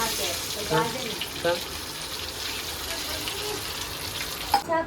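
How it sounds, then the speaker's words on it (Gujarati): Stuffed capsicums frying in hot oil give off a steady, soft sizzle, with a few faint clinks and stirring touches scattered through it. "હવે તળવાનું ચાલુ કરી દીધું"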